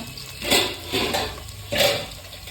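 Chopped onions tumble into a hot pan while crab sukka is cooked Kundapura style, giving three soft clattering bursts of utensil and pan contact with a light sizzle in between, close and moderately loud.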